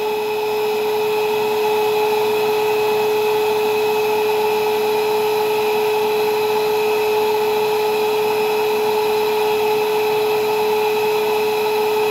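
A Record Doctor VI record cleaning machine runs its vacuum motor, giving a loud, steady whine with a constant pitch and rushing airflow beneath it, uninterrupted and close by.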